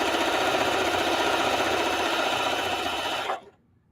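A sewing machine runs in a steady, dense whir of rapid stitching for just over three seconds before stopping abruptly, loud and close, with no talking.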